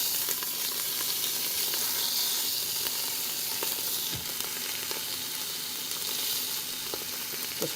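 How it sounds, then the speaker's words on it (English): Braciole sears in a slow cooker set to sear, giving a steady, bright sizzle with a few small pops and crackles, close and continuous throughout. "just pushing the ends up against the side of the slow cooker while it's on sear, just to get the ends browned as well"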